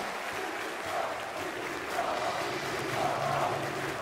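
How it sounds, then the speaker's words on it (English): A Polish crowd in an arena at a Counter-Strike major semi-final in Krakow cheers and applauds in a steady, moderately distant roar, without a clear break in the din. "Pretty happy Taz, pretty happy Polish crowd, I'd say."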